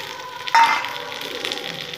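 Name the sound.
onions and green and ripe chillies frying in a pan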